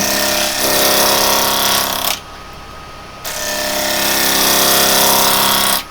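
A woodturning gouge cuts wood spinning on a lathe with a loud, close, rough cutting roar that breaks off for about a second and then resumes, heard alone.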